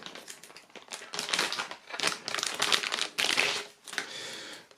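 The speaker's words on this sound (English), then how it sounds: "let's get it unboxed" Wrapping crinkles and crackles while the board game Movie Tricks is unboxed, in uneven close bursts of crumpling plastic with brief pauses between handfuls.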